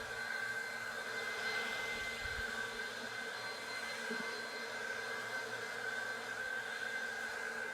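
A cordless vacuum picks up dust, leaves and twigs outdoors, producing a steady, fairly faint whirring drone with a constant high whine and occasional low bumps of debris.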